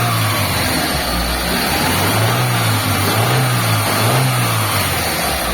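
A Mitsubishi Lancer engine runs after its replacement, a steady, loud, close idle with gentle rises and dips in revs throughout, smooth and even with no knocking.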